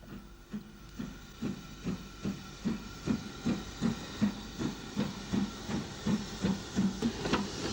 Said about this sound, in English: A UG drifts into Dungannon station.